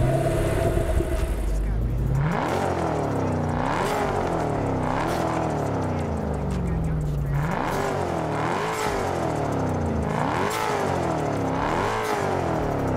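A tuned Mustang in Test Drive Unlimited, fitted with a turbo and sport exhaust, revs repeatedly in loud rising and falling sweeps, with several bursts of throttle one after another.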